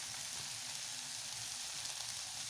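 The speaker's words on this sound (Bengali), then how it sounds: "এটা আমি একদম ভাজা ভাজা করে ফেলবো" Vegetables cooking with sugar in a pan give a steady, even hiss and sizzle throughout, faint and uninterrupted, with no voices.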